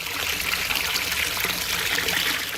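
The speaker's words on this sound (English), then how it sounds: "more running water flowing into a trench several feet deep" Running water pours steadily into a roadwork trench several feet deep in the Holly Grove neighborhood on Burdette, a constant close rushing and trickling with no talk over it.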